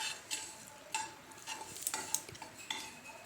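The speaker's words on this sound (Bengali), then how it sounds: "এখন এটা আমি একটু খোলাতে ভেজে নেব, শুকনা কড়াইতে শুকনো ভেজে নেব।" Whole cumin seeds dry-roasting in a dry wok, with light scattered ticks and scraping clinks of a utensil stirring the seeds; soft, close and without talk.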